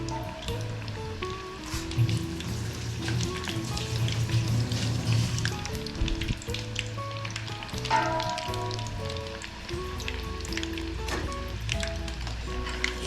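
Pepper chicken cooking in a pan over a very low flame, giving a steady close sizzle and crackle of frying that runs throughout with soft clinks and no talking.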